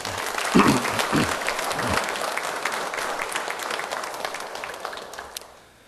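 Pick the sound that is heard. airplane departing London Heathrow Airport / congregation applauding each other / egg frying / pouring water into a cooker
congregation applauding each other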